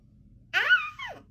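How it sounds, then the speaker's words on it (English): A puppy gives a single short, high-pitched yip or bark that rises and then trails off, heard alone against a quiet background. "Is that your doggy saying good morning?"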